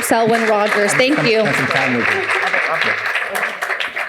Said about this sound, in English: round of applause to the panelists